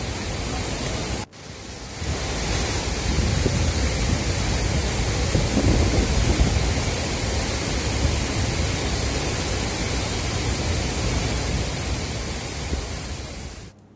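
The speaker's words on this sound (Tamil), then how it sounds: "பாதுகாப்பு வளைவுகளை தாண்டி தண்ணீர் ஆர்ப்பரித்து கொட்டுவதால்" Flooded waterfalls at Courtallam roar in a steady, loud broadband rush of heavy water pouring over safety barriers, continuous for several seconds after a brief cut near the start, with no voices.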